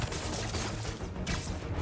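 Fireworks explode in Marvel's Spider-Man 2 on PS5, a dense, continuous crackle of bursts and thumps that stays loud and steady throughout, with no talk over it.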